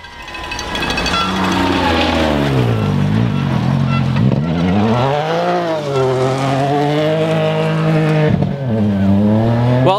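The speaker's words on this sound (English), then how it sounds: "got a car going by." A rally car races along a gravel stage at the 2017 Olympus Rally in the USA, its engine loud and close, revving up and down through gear changes as it passes.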